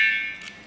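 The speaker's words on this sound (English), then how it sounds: "when you turn it, it's going to beep once, and when it beeps once, that means the alarm is set" A BULLY motorcycle pager alarm lock gives a single short electronic beep as it arms, close and clear, fading into quiet.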